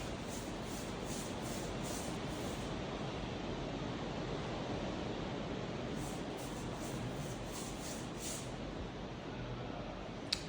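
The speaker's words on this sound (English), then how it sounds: "And it's pouring outside. Pouring, you can't see it, but it is, it's pouring. Storm." Heavy rain pours outside during a storm, making a dense, steady hiss that runs unbroken and fairly soft throughout, with no other sounds standing out.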